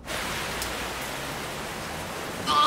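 Heavy rain pours down outdoors in a dense, even hiss of drops, steady and fairly close throughout, with a brief brighter clatter near the end and no voices.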